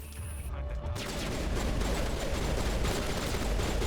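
Turrets fire in Mass Effect on the Citadel, a rapid, continuous mechanical rattle of shots that starts about a second in and keeps going loud and dense to the end.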